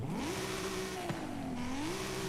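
A twin-turbo Nissan 350Z engine in Forza Horizon 5 drones steadily, revving up then holding a high, buzzy pitch with a brief dip and climb, loud and close with no talking.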